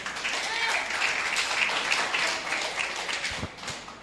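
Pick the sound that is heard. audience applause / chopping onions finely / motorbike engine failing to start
audience applause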